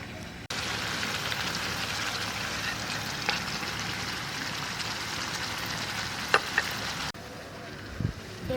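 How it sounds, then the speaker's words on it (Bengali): Chopped onions and garlic paste sizzle in a hot pan while a masala chicken is being cooked. A steady, moderate crackling hiss runs for several seconds under occasional faint kitchen clicks, then cuts out abruptly. "এবার আমি পেঁয়াজ কুচিগুলোকে দিয়ে দেবো। এবার আমি রসুন বাটাটাকে দিয়ে দেবো।"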